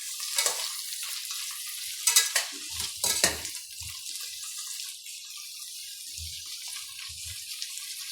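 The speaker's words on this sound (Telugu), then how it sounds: "క్యారెట్ పీసెస్ వేసిన తర్వాత మరీ అంతగా రోస్ట్గా వేయించాల్సిన అవసరం లేదండి." Carrot pieces fry in a pot for a one-pot chicken biryani, with sizzling, stirring and scraping up close, a few soft knocks of the utensil against the pot, and no voices.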